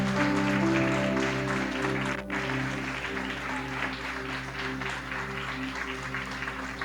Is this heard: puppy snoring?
no